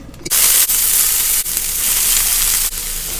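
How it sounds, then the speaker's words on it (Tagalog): Loud, close sizzling of zucchini and broccoli frying in a hot pan, a continuous crackling hiss with a few brief dips. "iprito-prito lang natin ng konti itong ating gulay ha"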